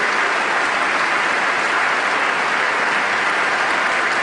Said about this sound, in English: And a big round of applause, and so it should be.